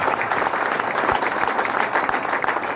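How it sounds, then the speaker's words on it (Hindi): An audience at a motivational seminar claps continuously for about three seconds, a dense, fairly close wash of many hands with no pauses. "बजाओ यार, ताली बजाओ, बजाओ, बजाओ, ताली बजाओ।"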